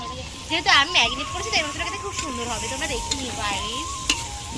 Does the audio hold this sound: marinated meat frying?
yes